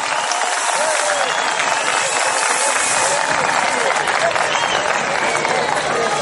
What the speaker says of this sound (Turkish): Bu alkış yetmez, vallahi yetmez.